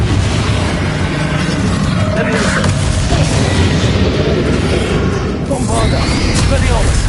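Bombarda spell blasts in Hogwarts Legacy boom and crackle amid dense combat noise, loud and close, with a voice speaking over the din.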